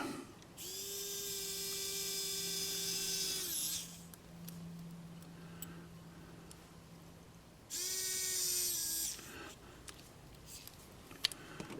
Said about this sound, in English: drill a hole right in the center of that